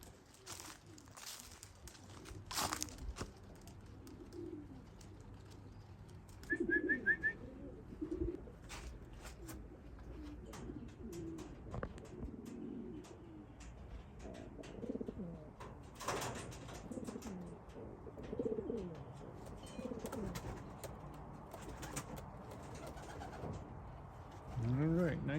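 Racing pigeons coo at their home loft after a six-hour race, soft repeated low coos running steadily under intermittent nearby talk, with a brief chirp and a few louder bursts of handling noise.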